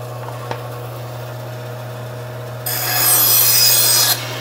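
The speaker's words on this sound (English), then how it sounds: "with the disc sander, just clean up these angles" A disc sander cleans up bevel angles on a wooden workpiece, a steady hum with a faint tap early on, then a loud, bright rasping grind for about a second and a half as the wood is pressed against the disc.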